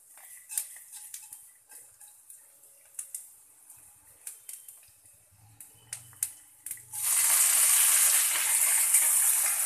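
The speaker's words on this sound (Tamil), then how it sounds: "இப்போ முதல்ல சோம்பு கொஞ்சோண்டு போட்டுடுவோம்" A few light clinks of utensils, then a pinch of fennel seeds hits hot oil for mutton keema balls and bursts into a loud, steady, close sizzle.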